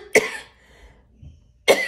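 Two sharp, close coughs from a woman, about one and a half seconds apart, each a brief loud burst, with quiet between them.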